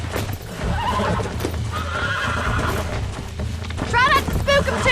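A horse being broken in the Red Dead Redemption video game, with continuous clip-clopping hooves and snorting, then a loud shrill whinny near the end, while a voice talks underneath.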